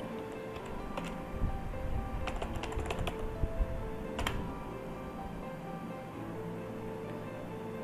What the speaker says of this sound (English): here you just type auto refresh.